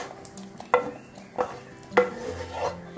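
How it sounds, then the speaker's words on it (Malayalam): A spoon stirs a sambar spice mixture into cooked vegetables in a pot for an instant sambar, giving three or four distinct scraping, clinking strokes over a soft background sizzle. "നമുക്ക് ഈ കൂട്ട് ഇതിലേക്ക് ഒഴിച്ചിട്ട് മിക്സ് ചെയ്ത് കൊടുക്കാം"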